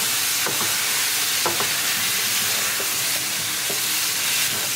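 Aloo gobi, a cauliflower and potato mixture, is stirred in a pan, with steady sizzling underneath and a few scraping strokes of the spoon at irregular intervals; no one talks.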